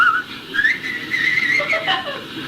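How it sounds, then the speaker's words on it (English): Someone whistles a wandering tune up close, the notes sliding up and down for a couple of seconds, with no talking. "Stop whistling!"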